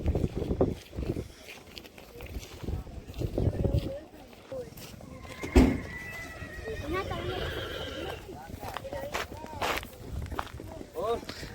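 A black mare whinnies at a horse gathering in Kutch amid steady crowd chatter, with hoof clip-clops and footsteps around it; the neigh rises briefly in the middle before the talk carries on.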